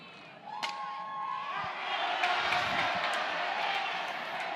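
Hostile, very loud softball fans at Love's Field shout and cheer during an NCAA game between #1 Oklahoma and Louisiana, a dense crowd roar swelling and holding steady, with a few sharp knocks and calls standing out early.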